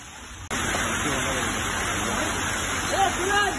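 Floodwater pours through a village market street and main road, giving a steady rushing wash that starts abruptly and stays loud and continuous throughout.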